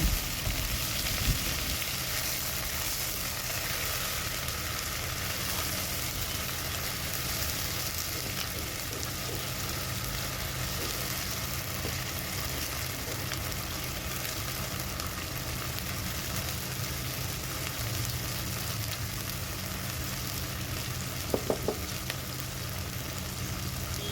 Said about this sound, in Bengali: মশলাটা একটু আমি ভেজে নিয়েছি